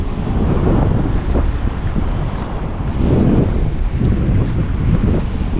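Strong wind buffets the microphone on a fishing boat at sea, a loud, continuous roar with rumbling gusts that swell and ease, and no voices over it.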